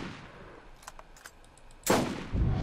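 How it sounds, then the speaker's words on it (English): A huge explosion goes off far away in the video game Borderlands, a burst of booming noise after a quiet stretch with faint pops, followed by a rumbling tail. "That was a huge explosion from afar."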